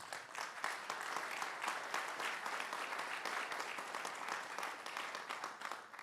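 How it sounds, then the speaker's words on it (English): An audience gives a sustained round of applause at an event against antisemitism, dense clapping from many hands at a fairly distant level, with no talk. "he definitely deserves that round of applause"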